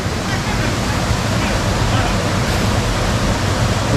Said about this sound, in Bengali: এই হচ্ছে লোয়ার ঘাগরি ওয়াটারফলস।